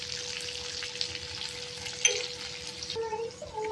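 Masala okra (bhindi) frying in a pan on low gas, being stirred: a steady close sizzle with scraping stir noises, a sharp clink partway through and a brief utensil tap near the end.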